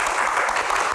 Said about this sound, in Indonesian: Tepuk tangan untuk Seni